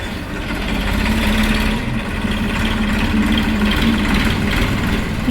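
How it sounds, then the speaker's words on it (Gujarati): A tractor engine runs steadily nearby, a continuous low rumbling drone with no breaks. "જ્યારે ટ્રેક્ટર ચાલતું ટ્રેક્ટર જોવે ને એના અવાજથી એનું એક્સપ્રેશન આવે છે"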